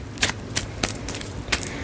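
Tarot cards shuffled by hand, sharp papery flicks and riffles in four or five separate bursts over a steady low room hum, close and moderately loud, with no talking.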